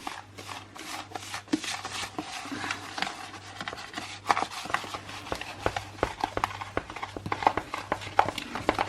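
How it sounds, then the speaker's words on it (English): Fingers rubbing citric acid and bicarbonate powders together in a bowl while mixing bath bomb ingredients, producing soft, close, repeated gritty scratches and taps in an irregular rhythm, with a low background hum. "Just gently rubbing it together and get it all blended in nice and neat."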